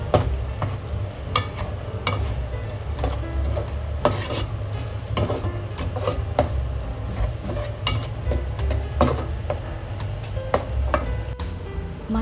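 A masala with chilli powder for Kannur prawn dum biryani is stirred and sautéed in a pan: close, busy scraping and clinking of a spoon against metal over a continuous sizzle, with no talking.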